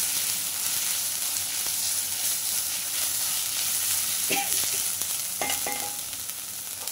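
Ginger garlic paste sautéing in hot oil, a continuous close sizzle with a few scraping stirs of a spoon against the pan near the end, no talking.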